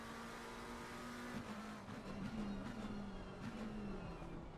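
A McLaren race car engine in a racing sim at the Zolder circuit holds a steady, droning note with shifting pitch, running continuously at moderate volume with other car noise mixed in.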